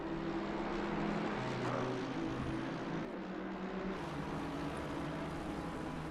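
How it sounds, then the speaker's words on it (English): A helicopter flies over the Mount Panorama race track with a steady droning engine and rotor hum, continuous and mid-distance, with a low rumble underneath and no voices. "Our intrepid helicopter pilot trying to keep up with the cars as they go over the top of the mountain"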